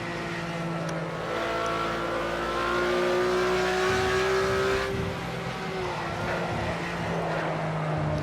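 A Porsche 991 911 engine pulls hard through a lap of the Nürburgring Nordschleife in a driving game, the steady high drone rising and shifting as it accelerates, loud and continuous.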